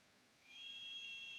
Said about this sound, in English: At 7:30, whistles sounded.